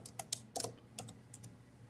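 Scattered keystrokes on a computer keyboard: a few quiet clicks in small bursts with gaps between them, set against a faint room hum.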